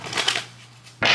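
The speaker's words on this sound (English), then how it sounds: "Let me go ahead and put that back in the deck because and do another shuffle." Tarot cards riffled in a quick shuffle, a brushy rattling burst at the start, then a short hush and a second sharp flurry of cards at the end, close and clear with no talking.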